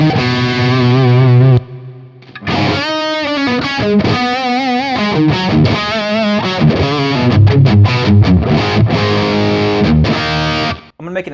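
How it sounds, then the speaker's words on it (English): Gibson 1959 Les Paul Standard reissue electric guitar on its neck pickup through an amp, played alone with distortion and effects: sustained chords and ringing single-note runs, loud and close, with a brief pause near the start. "Our neck pickup sounds like this."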